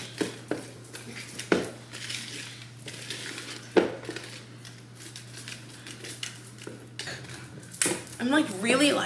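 Thick cake batter is worked hard in a bowl, with irregular scraping, knocking and clinking of the utensil against the bowl over a steady background hum.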